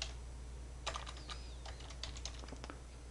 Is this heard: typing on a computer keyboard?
yes